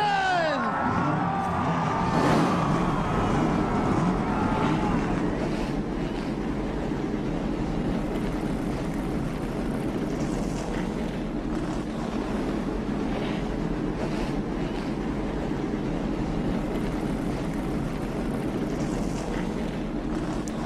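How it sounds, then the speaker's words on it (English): Race car engines firing up trackside at North Wilkesboro for a Cup Series race, a loud sustained roar with some rising whines early on, blending into a constant wash of engine noise. "Gentlemen, start your engine!"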